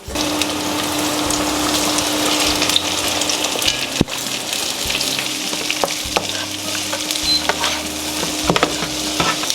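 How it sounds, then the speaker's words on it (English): Onion and garlic frying in a pan with a steady, dense sizzle and occasional stirring scrapes, close and loud throughout with no talking. "While the onions are roasting, we can start to think about the flavoring."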